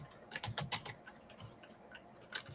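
Computer keyboard keys are tapped in a quick cluster of soft clicks, then a few scattered, fainter presses and a final tap, all quiet and close in a still room.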